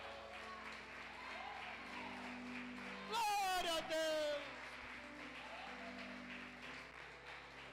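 A church congregation claps steadily through the whole stretch, with a voice loudly calling out praise over the applause near the middle.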